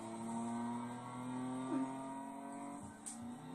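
A Honda car in Need for Speed Payback pulls away, its engine droning steadily with a brief rising rev, moderately loud and alone without talking.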